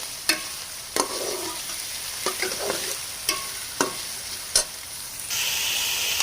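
Ingredients for white sauce macaroni fry in a pan with a loud, steady sizzle, punctuated by about seven sharp spatula taps and scrapes, and the hiss grows brighter near the end.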